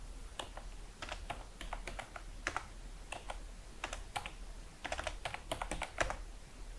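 Typing on a computer keyboard, scattered clusters of crisp key clicks at an irregular pace, close and fairly quiet.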